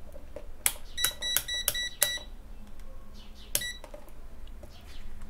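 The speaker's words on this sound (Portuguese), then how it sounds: "deixa eu ligar meu multímetro aqui" A digital multimeter switched on at a desktop motherboard repair bench gives a burst of short electronic beeps in quick succession, then one more beep after a pause, over a quiet room hum.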